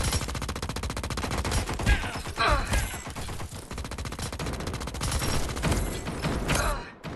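Rapid automatic gunfire from Indus Battle Royale rattles in dense, continuous bursts with brief gaps, close and steady throughout, with little else audible over the shots.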